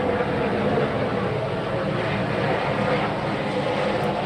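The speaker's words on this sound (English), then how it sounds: "there's a helicopter flying" A helicopter drones overhead as a steady, broad, rumbling wash that stays loud and even throughout, with no talk.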